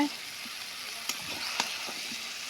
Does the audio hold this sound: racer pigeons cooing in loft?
no